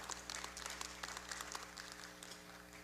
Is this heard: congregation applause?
yes